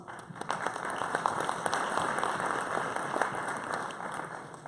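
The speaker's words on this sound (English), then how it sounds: "round of applause" A crowd at a blockchain panel session gives a round of applause, a steady patter of many hands at moderate distance, with a faint steady hum underneath.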